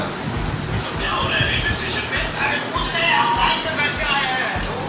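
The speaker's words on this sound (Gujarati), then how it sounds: "વરસાદ બહુ જોરદાર પડે છે" Heavy monsoon rain pours steadily in Vadodara, a dense continuous hiss with low rumbling underneath and voices faintly present in the background.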